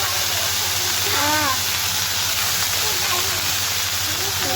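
Vegetable bhaji frying in a pan gives a steady, even hiss and sizzle that runs throughout, close and moderately loud, with a faint low hum beneath and a brief voice-like sound partway through.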